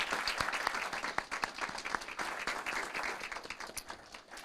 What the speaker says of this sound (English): If we could give him another round of applause,